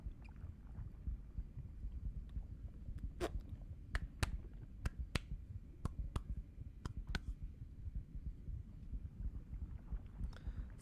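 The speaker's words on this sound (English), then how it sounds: "The heartbeat echoing in his ears would cease." A heartbeat sound effect from the video game RB Axolotl pulses over a low rumble, a series of soft thumps that come in pairs and irregular clusters, close and steady, with no voices.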